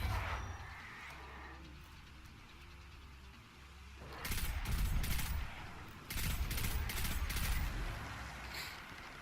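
Weapon fire in Destiny 2 rattles out in two sustained bursts of rapid, loud shots, separated by a short pause, over a low rumbling game backdrop.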